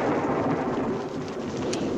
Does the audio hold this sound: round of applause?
no